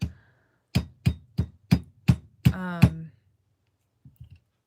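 Jewelry wire is struck with a hammer in a quick series of about seven sharp, close metallic taps, followed by a brief scrape and a few faint knocks.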